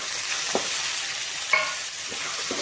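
Onions sautéing with moong dal and dried red chillies, giving a soft continuous sizzle with a few spoon taps and scrapes against the pan.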